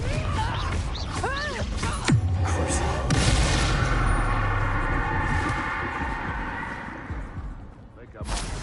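Fiery Confringo spell blasts in Hogwarts Legacy combat, a sharp booming impact around two seconds followed by a long rumbling, crackling roar that slowly fades, with whooshing magic sounds before and a new swell at the end.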